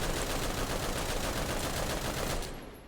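Continuous rapid gunfire in the shooter game Bulwark, a dense, unbroken rattle held loud for nearly three seconds before it fades slightly at the end.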